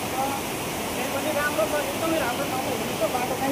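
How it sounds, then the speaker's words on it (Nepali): Steady, loud rushing roar of a waterfall and stream in a jungle on the way to Lauke Jharana, a continuous broadband wash of water with no break throughout. "अब चाहिँ झर्नाको आवाज एकदमै आयो"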